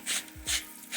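Black pepper being freshly ground from a grinder over a Dutch oven of onions, celery and carrots, giving two or three short, close gritty rasping twists in quick succession.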